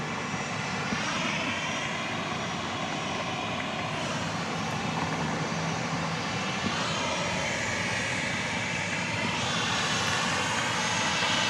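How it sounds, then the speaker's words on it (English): Southwest Boeing 737-700 jet at Dallas Love Field after dark, a continuous, fairly faint engine roar with slowly shifting tone, heard steadily throughout from a moderate distance. "Flight 2343 from the Valley of the Sun, Phoenix. A 737-700."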